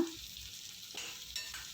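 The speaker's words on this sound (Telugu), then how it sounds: "కొద్దిగా ఫ్రై అయ్యేలాగా కలుపుకుందాము" Onions sizzle in a hot pan of oil with tempering spices, curry leaves and green chillies while a spoon scrapes and stirs them in a few quick strokes, close and steady.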